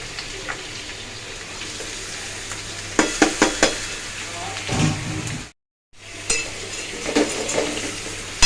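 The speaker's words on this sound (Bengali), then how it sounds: "এবার এটাকে ভাজতে মতো দিয়ে দেবো" Boiled soybean chunks fry in a pan with a constant sizzling hiss, punctuated by clanks and scrapes of a utensil against the metal and a brief gap of silence partway through.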